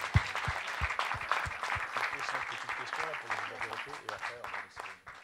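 Studio audience applause on a French television show, loud sustained clapping for about five seconds with a host's voice talking over it.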